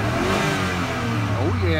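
An '02 Chevy 5.3L LS engine with 119K miles revs on a stand with a steady, loud mechanical drone and rising whine. Speech is heard over the engine.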